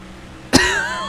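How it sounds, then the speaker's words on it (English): A single sharp, loud cough from a man with a lingering cough, bursting out abruptly and trailing into a brief throaty rasp, with no talk around it. "I still have this stupid cough, by the way."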